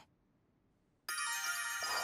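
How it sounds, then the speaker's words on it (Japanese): Broken alarm clock in the video game Lily Triangle, starting abruptly after about a second of near silence and then ringing loud and harsh with a buzzy, continuous electronic tone. "時計のアラーム。 決まった時間に聞こえるわけだ。 壊れかけてこんな音に。"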